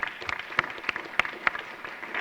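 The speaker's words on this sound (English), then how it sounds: "Let's give him another round of applause." An audience at a public health symposium claps in scattered, thinning applause, with individual hand claps standing out over a soft crowd wash.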